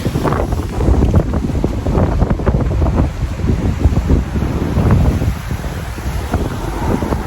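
Steady wind buffets the microphone on a beach in Barbados, with the broad wash of waves rolling underneath; the noise stays loud and continuous throughout.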